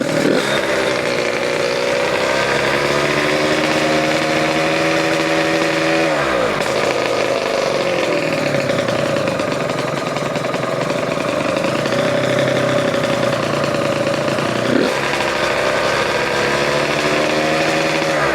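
A Suzuki RGV 250 VJ22 two-stroke motorcycle engine runs loud and close, holding a raspy, buzzy tone whose pitch sags and rises as the revs fluctuate and drop back, with no talking.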